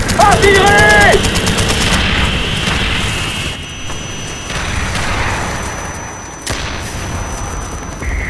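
Heavy gunfire and artillery blasts in the Call of Duty Black Ops campaign, a loud, dense barrage of bursts and booms that stays steady throughout, with brief tonal game sounds near the start.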